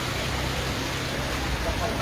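Unseasonal rain falls steadily over rural Halvad, a soft, even wash of patter that stays at a constant low level with no distinct drops standing out.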